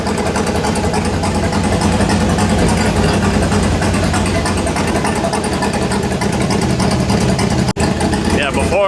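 A turbocharged truck engine runs at a steady, loud idle up close after a MAP sensor fix, with a continuous rough rumble and a brief dropout near the end.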